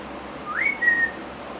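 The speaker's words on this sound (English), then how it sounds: "I heard the phone whistle" A phone notification sounds a single whistle tone that rises and then holds steady for about half a second, clear and close against a quiet room.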